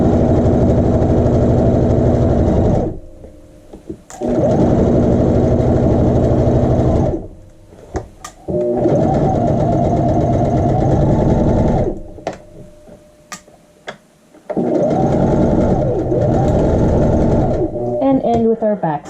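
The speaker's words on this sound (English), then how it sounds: "Let's go ahead and sew these with a 1/2 inch seam allowance. Start that back stitch." A sewing machine stitches the rise seam of a child's shorts, running in long steady whirring bursts with brief stops for back stitching, loud and close, while a person talks over it.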